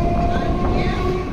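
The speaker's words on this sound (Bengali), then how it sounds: "আমাদের ট্রেন বেগমপুর থেকে 4 কিলোমিটার পথ অতিক্রম করে বারুইপাড়া স্টেশনে পৌঁছালো" Train pulling into Baruipara station, a loud close rumble with a steady sustained tonal whine from the wheels or motors, heard briefly and continuously.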